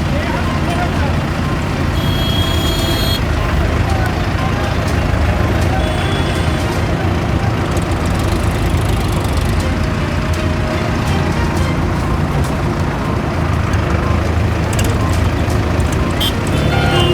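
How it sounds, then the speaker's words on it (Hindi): Tractor rally moving through the streets of Siliguri: a dense, steady rumble of engines and traffic, loud and continuous, with brief higher whines and a voice talking over it. "आज सिलीगुड़ी में भी जो है ट्रैक्टर रैली"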